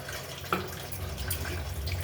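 Water poured from a glass into a pot of rasam made with coconut paste, a steady close trickle and splash running the whole time with a brief louder spill near the start.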